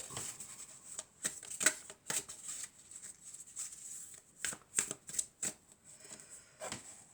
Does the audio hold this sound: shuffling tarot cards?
yes